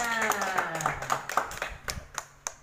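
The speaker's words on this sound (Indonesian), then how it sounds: "Kasih tepuk tangan untuk temannya." Classroom applause for a student who answered correctly: a burst of sharp, uneven hand claps from a group of children, loud and close at first, then thinning into scattered individual claps, with voices in the background.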